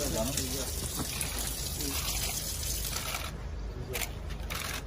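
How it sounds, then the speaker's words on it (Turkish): Water flowing from a newly opened public fountain at an opening ceremony, a steady rushing wash of running water throughout, with voices talking over it. "Artık suyumuz akıyor."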